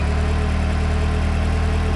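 A car engine idling smoothly after repair, a steady close low rumble with even vibration and no other sounds.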